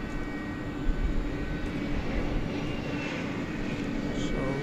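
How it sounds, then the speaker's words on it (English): A trijet airliner taxis across DFW Airport at night, its engines giving a steady, even roar that holds without a break, heard from some distance. "The Trijet now scooting over to the east side."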